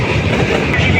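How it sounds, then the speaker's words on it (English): A train rumbles steadily along the rails in Dudhwa National Park, a continuous close clatter with no pauses. "Train is going straight."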